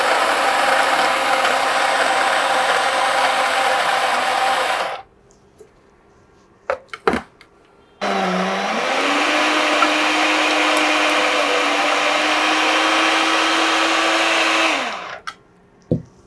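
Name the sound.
electric grinder jar grinding spices into powder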